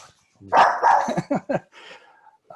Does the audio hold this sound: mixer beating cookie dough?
no